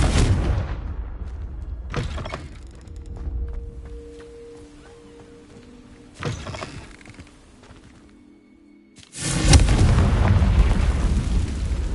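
Confringo spell blasts in the Hogwarts Legacy video game, several booming explosions with sharp attacks and rumbling tails, the last one loudest and most sustained, alongside faint magical chimes and tones between them.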